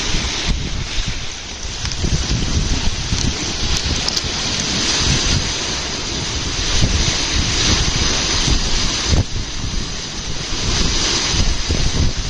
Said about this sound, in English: the wind is whipping around because there is an actual thunderstorm coming.